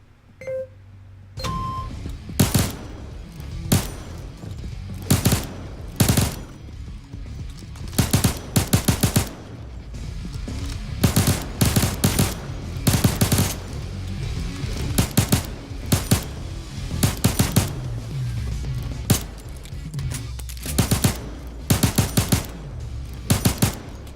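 Rapid automatic M13 gunfire at the Payday 2 shooting range in the video game, loud close bursts and single shots in an uneven rhythm, with short pauses between volleys.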